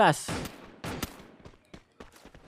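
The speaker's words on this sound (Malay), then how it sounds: "Itulah tembakan dia lakukan oleh King di sini" Video game gunfire crackles in a few sharp bursts, a loud opening shot followed by quicker, fainter pops, with a voice talking over parts of it.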